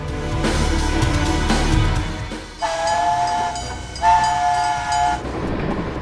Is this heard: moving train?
yes